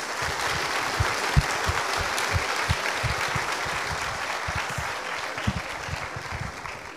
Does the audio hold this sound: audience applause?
yes